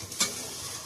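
Goat meat sizzles and frying in a pan as a utensil scrapes through it once, a brief clatter over a constant close hiss.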